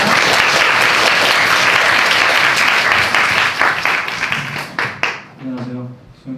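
An audience at a Korean university special lecture claps loudly to welcome a literary critic. The dense applause thins into scattered claps near the end, and a voice begins speaking as it fades.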